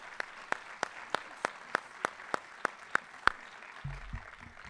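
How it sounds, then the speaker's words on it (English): Clapping for award winners at a 2023 letter jacket ceremony sounds as slow, evenly spaced single claps, fairly faint and steady, with a brief low rumble near the end. "Let's give them a big round of applause"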